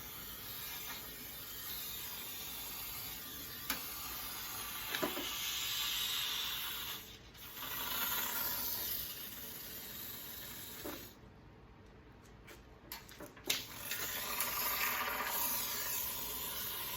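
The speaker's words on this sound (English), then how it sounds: "it's spraying a lot harder now for some reason" A spray gun sprays onto the cowl of a 1966 Mustang around the antenna hole, giving a steady close hiss that runs nearly continuously, with a few brief pauses and small clicks.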